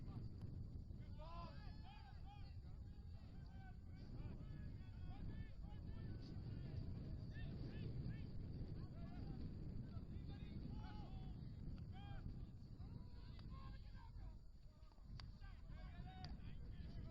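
Wind buffets the microphone at an outdoor hockey pitch, a steady low roar that runs under someone talking throughout.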